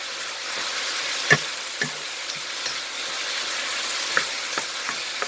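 Bean sprouts and pork being stir-fried in a pan, a continuous sizzle with scattered spatula knocks and scrapes, one sharper clack near the start, nearby and fairly loud.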